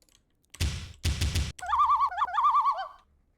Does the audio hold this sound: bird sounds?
yes